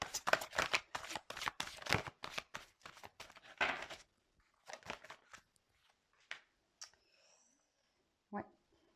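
Tarot cards shuffled close up, a rapid run of crisp riffling flicks that trails off into a few scattered card slaps and taps, with faint speech.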